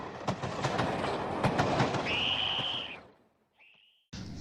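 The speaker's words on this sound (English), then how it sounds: "then we hear and see another train approaching" Train approaching on railway tracks in a public information film: loud rumbling and rattling wheel clatter with a sustained high squeal, then a sudden drop to near silence, a brief faint squeal, and a loud return.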